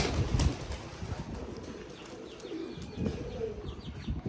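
Pouter pigeons coo in a loft, low soft burbling calls mixed with brief wing flaps and small chirps, close by and fairly quiet amid light background noise.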